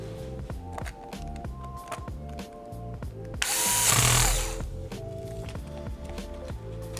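A small screw goes back into the touchpad of an Acer Chromebook C733 during a palm rest replacement, heard as one short whirring burst of a powered driver over steady background music.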